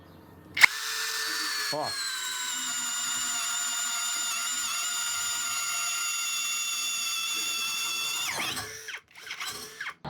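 A Hanabi LJ2022 cordless drill with a hybrid chuck and 55 Nm of torque bores with a self-cut bit: a steady, loud, high motor whine lasting about seven seconds, with a brief voice at the start and end.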